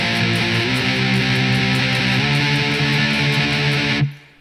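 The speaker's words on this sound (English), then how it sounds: "And the other guitar plays the rhythm," A heavily distorted electric rhythm guitar chugs through a riff from a song, dense and loud with a rapid, steady picking pulse for about four seconds before cutting off sharply.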